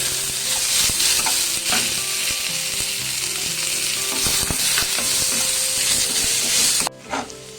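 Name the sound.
chopped onions frying in a pan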